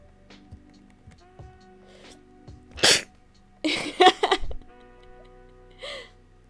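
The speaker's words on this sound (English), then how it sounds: "I feel like I'm gonna sneeze." A single sharp sneeze bursts out near the middle amid faint breathy throat noises and small gasps, followed by a shorter exhale-like sound, otherwise quiet with a soft background hum.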